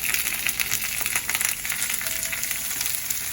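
Shrimp and garlic sautéing in olive oil in a hot pan, a loud, close, continuous hiss and crackle with faint stirring, steady throughout without voices.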